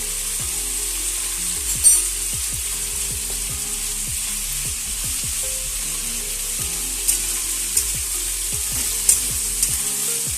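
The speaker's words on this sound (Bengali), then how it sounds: "এটা ভালো করে সবজিটাকে কষাতে হবে। এবারে এর মধ্যে আমি দিয়ে দিচ্ছি 1 চামচ আদা বাটা।" Mixed vegetables with ginger paste sautéing in a pan for a Chhath festival dish, a steady sizzle and frying hiss throughout with repeated close scrapes and clicks of a spoon stirring against the pan.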